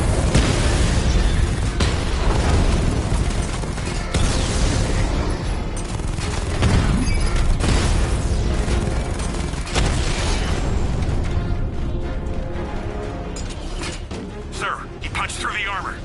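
The Batmobile in Batman: Arkham Knight fires its 60mm cannon in dense, continuous booms and blasts, with mechanical clanks and cracking bursts layered throughout. Voices speak underneath the loud, sustained combat noise.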